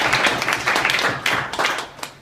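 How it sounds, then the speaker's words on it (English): An audience at a Spark Boulder anniversary event gives a round of applause, a dense burst of many hands clapping that swells and fades in waves, fairly close and loud, with no talking over it. "So let's give them a round of applause."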